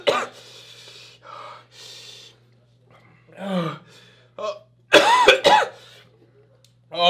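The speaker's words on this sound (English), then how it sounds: "coughing is like the worst thing in the world" Harsh, close coughing and throat clearing in sharp bursts, mixed with gasps and heavy breathing, with a low steady hum underneath.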